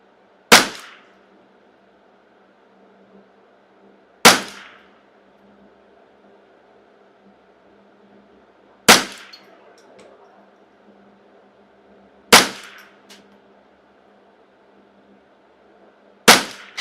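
A custom shop Ruger 10/22 rifle firing CCI standard velocity ammunition: five sharp, loud single shots spaced about four seconds apart, each with a short decaying tail, over a quiet background hum.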